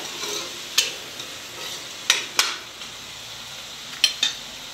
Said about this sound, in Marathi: आणि छान असं सॉफ्ट होऊ द्यायचं हे आणि मसाले छान परतू द्यायचे तेलावर.